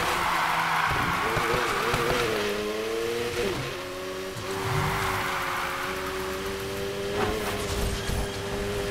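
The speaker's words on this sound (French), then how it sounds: "on va essayer de faire cette zone de drift là" Car drifting in the Need for Speed video game, a steady revving engine drone with a shifting pitch, tyre noise and rumble underneath, loud and continuous throughout.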